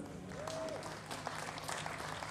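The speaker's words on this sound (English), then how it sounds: "Give them a round of applause" Crowd applause for a band at the York Motorcycle Festival's Harley-Davidson stage, a steady, fairly distant wash of clapping with a brief tonal squeal and faint voices mixed in.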